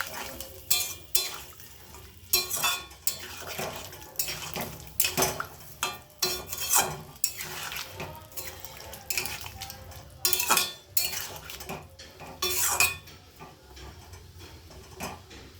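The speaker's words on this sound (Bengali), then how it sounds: "এবার আবারও একবার ভালো করে কষিয়ে নিচ্ছি।" Spice paste for a raw banana and potato curry being stirred in a pot with water, the spoon scraping and clanking against the metal in irregular bursts over a faint background sizzle, with no talk.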